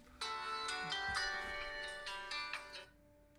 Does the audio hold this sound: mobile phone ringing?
yes